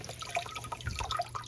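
Water splashing and trickling as brand-new Eheim canister filter biomedia is rinsed, a soft, close, steady run of drips and small splashes.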